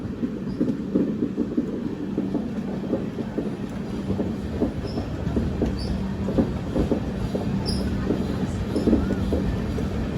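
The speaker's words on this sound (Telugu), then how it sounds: "ప్యారలల్ రన్ మన ట్రైన్, ఆ ట్రైన్." A Satavahana Superfast Intercity Express with LHB coaches runs alongside another train of spare coaches, a steady, loud rolling rumble with a continuous rattle and a rhythmic clickety-clack of wheels over rail joints.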